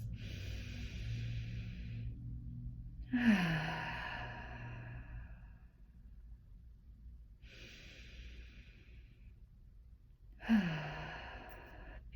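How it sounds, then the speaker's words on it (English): Slow, deep breaths during a guided breathing exercise: two long inhale-exhale cycles, each ending in a strong audible sigh-like exhale, close and fairly quiet, with no talking. "Getting 3 nice full inhales, full exhales."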